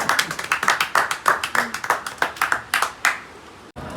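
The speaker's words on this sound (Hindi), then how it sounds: "वाह वाह वाह वाह, जोरदार तालियां" Loud hand clapping from a small group, a rapid, steady run of sharp claps that ends abruptly after a few seconds.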